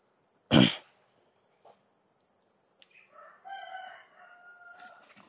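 A rooster crows once at a distance over a constant high insect buzz, after an earlier sharp knock near the mic.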